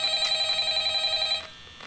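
An electronic telephone ring in the video game Five Nights at Freddy's trills for over a second then cuts off, leaving faint background hiss.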